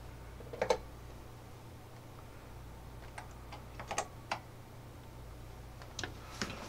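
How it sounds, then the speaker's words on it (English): Someone types on a computer keyboard held sideways and upside down, producing sparse irregular clicks and small bursts of keystrokes, close and moderately loud over a low steady hum, with no talking. "Typing sideways and upside down."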